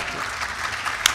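Audience applause at a literary festival session in Lahore's Arts Council, greeting the poet Kishwar Naheed; a steady, even wash of clapping from a seated crowd throughout, with one sharper clap near the end.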